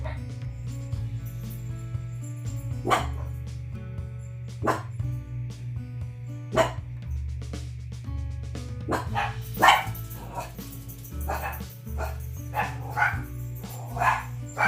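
Several dogs bark in sharp, repeated bursts indoors at a home, close and loud, growing busier toward the end, over a steady background hum, with someone speaking at times in between.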